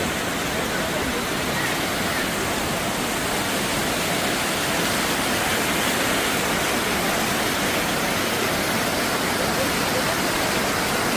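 Shuzheng Waterfall in Jiuzhaigou roars with steady, loud, broadband rushing water. The roar is close and unbroken throughout, and no other sound stands out.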